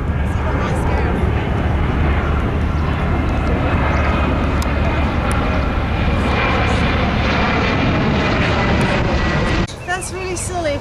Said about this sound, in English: there's a plane landing over there.